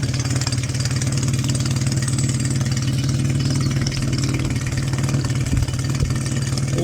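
A Mercury 9.9 outboard motor runs at a steady idle, a close, constant buzzing drone with a fast regular pulse and no pauses throughout.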